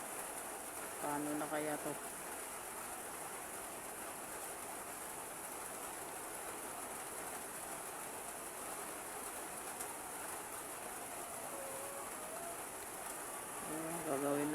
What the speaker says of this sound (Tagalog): Tuloy-tuloy yung ulan.